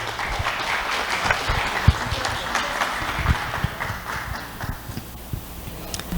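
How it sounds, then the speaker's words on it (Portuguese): Applause at a seminar on citrus tax reform, a dense, steady patter of clapping hands at moderate loudness that lasts throughout without voices. "Uma salva de palmas, por favor."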